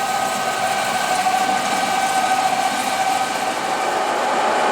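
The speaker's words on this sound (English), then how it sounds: "Here we're seeing the table turn at 106 RPM." A 36-inch Webster Bennett Model DH vertical turret lathe with its table spinning at 106 RPM, giving a steady, loud mechanical hum with a constant tonal whine and no pauses, nobody speaking.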